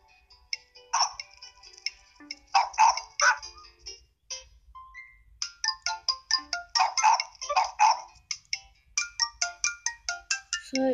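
Several dogs bark in a kennel, rapid clustered yaps and barks coming in bursts at close range, some overlapping, with brief pauses between volleys.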